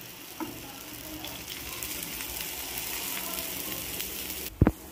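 Ragi roti, a spiced finger-millet flatbread, frying in a little oil on a stovetop, giving a steady soft sizzle throughout, broken near the end by a brief louder clatter.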